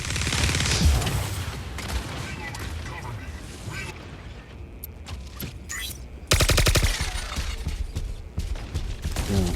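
Rapid bursts of gunfire from mechs in the Mech Arena video game, loud bursts at the start and again later, mixed with booms and mechanical game effects.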